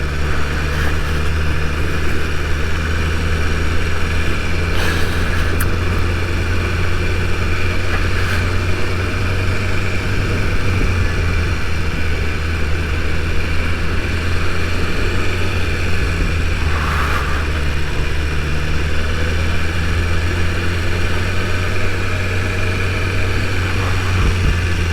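A BMW S1000RR sport motorcycle rides along in second gear, its engine holding a continuous droning tone with steady low harmonics, close and unbroken, with occasional faint bursts of passing noise.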